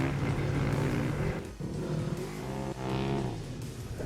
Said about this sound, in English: get behind the wheel of our Polaris Razors and go ride